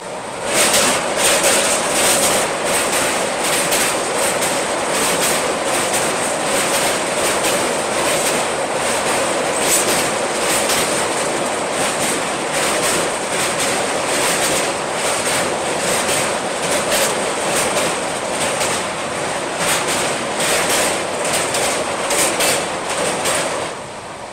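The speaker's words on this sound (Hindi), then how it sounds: "यही थी स्पेशल ट्रेन" A passenger train on the long-distance Agartala–Bengaluru route rolls steadily along the rails, a loud continuous rumble heard from inside with regular clickety-clack wheel beats throughout.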